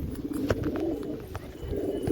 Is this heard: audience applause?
no